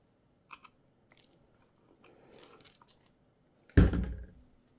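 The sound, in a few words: poking a hole for an eyelet in a key keeper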